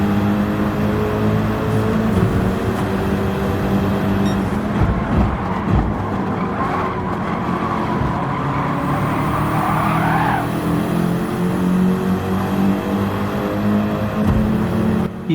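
Racing cars in the Gran Turismo 7 Nations Cup at Lago Maggiore, a German police car pulling out to overtake, engines droning loud and steady with a rising whine of one car passing through the pack.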